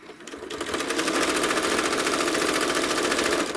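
A home sewing machine stitches feather motifs on a quilt, its needle running in a fast, even mechanical chatter that starts up quickly and holds steady, loud and close.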